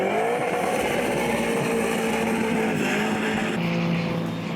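Holden Commodore V8 drift car at a D1NZ drifting round in Christchurch, its engine howling loud and close with rising and falling revs and a harsh tone, shifting pitch near the end.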